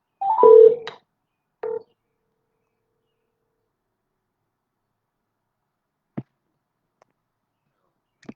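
Telephone keypad tones sound while a call is placed, a couple of short clear dialing beeps near the start followed by near silence and a few faint clicks.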